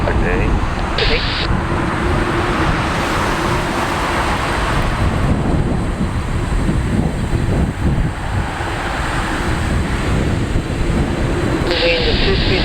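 MIAT Mongolian Airlines Boeing 787-9 taking off from Narita International Airport in summer, a sustained broad jet-engine roar heard from a distance with steady wind-like rush; radio chatter is faintly audible.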